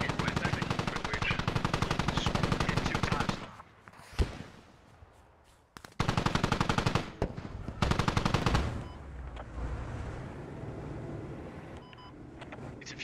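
Squad gameplay with loud bursts of automatic rifle fire and single shots coming in rapid clusters, a short lull, then more shooting over fainter background rumble, with some talk between the bursts.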